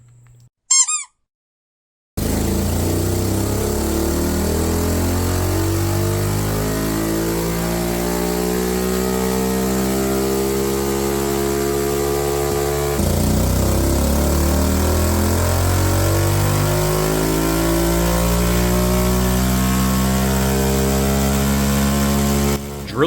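A pit bike engine runs on a dyno during carburetor testing, revving up steadily through a long sweep, dropping back, then climbing again, loud and continuous with no talk.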